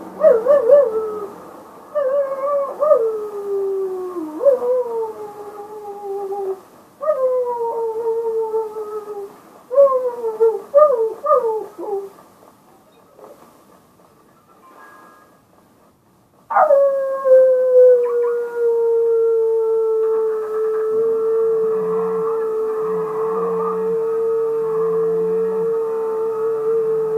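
A long, wavering howl repeats in drawn-out, falling and rising calls, then holds one sustained note to the end, loud and close with no other sounds.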